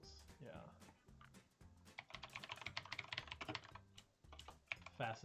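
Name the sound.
fast typing on a computer keyboard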